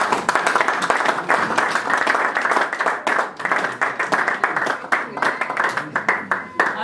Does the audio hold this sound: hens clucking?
no